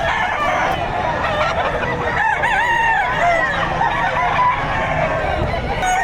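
Chickens and roosters at the Padre Garcia livestock auction market in Batangas crow and cluck without pause, a dense, loud chorus of nearby birds mixed with some talking.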